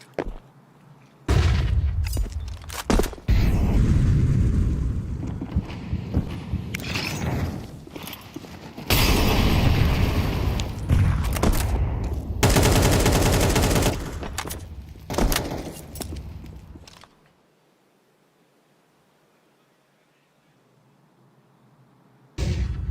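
Counter-Strike match round, bursts of rapid gunfire and sharp shots in dense clusters, loud and close, separated by brief lulls before tailing off into near silence.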